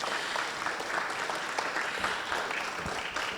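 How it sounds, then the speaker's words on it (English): Conference audience applauding a panel, a dense, even burst of clapping from many hands that holds steady for a few seconds with no talk over it. "Can I have a big round of applause for our panel?"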